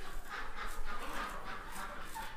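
Ducks quack in a farm barn, a rapid series of faint, nasal calls over a rustling background.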